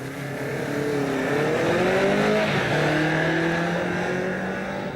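A 20-year-old Kawasaki Z1 motorcycle accelerates hard on a standing quarter-mile run, its engine note climbing through gears with a brief dip at a shift, loud and steady throughout.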